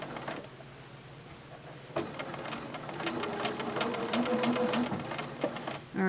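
A sewing machine stitches fabric for a wave-tucked hand towel, a steady close mechanical whir with a rapid needle rhythm that runs the whole time and grows slightly louder toward the end.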